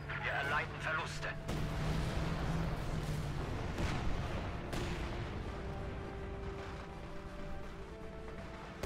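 Katyusha rocket artillery firing in the video game Company of Heroes 2, a dense barrage of booming launches and rumbling blasts that stays loud throughout under battle noise.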